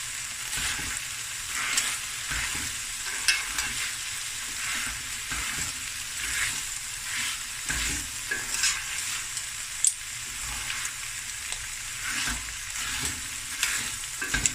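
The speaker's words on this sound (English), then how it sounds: "The rice is frying nicely. I just want a little fry on it." Steady sizzling and crackling of clam and crab fried rice frying in a hot pan, with occasional scraping stirs, continuous and close without any talking.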